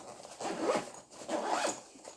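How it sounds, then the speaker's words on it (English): A zipper runs twice in quick pulls as a carrying case for a FIMI X8 drone is closed up, close and clear with nothing else heard. "Close this up, zipper it up."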